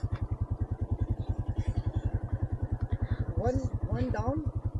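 A very small motorbike engine runs steadily close by with an even, rapid putter, while voices talk over it near the end.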